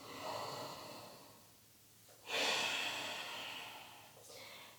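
Slow, close breathing: a soft inhale followed by a long, airy exhale, then another quieter breath, calm and unhurried.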